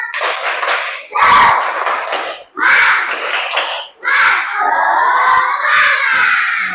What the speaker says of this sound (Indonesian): Yuk biar tambah semangat, tepuk semangat.